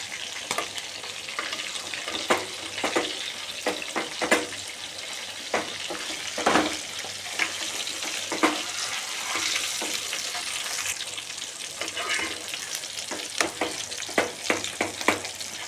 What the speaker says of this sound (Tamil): சிம்மில் வச்சு வேக வச்சா மட்டும்தான் இந்த மசாலா வந்து இதோட நல்லா ஃப்ரை ஆகும்